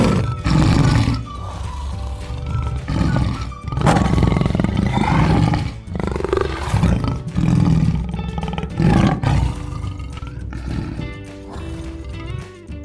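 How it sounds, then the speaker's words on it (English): A tiger roars loudly and repeatedly in a series of deep, rumbling bursts with brief pauses between them, close and dominant throughout. "This is a tiger. The tiger says roar."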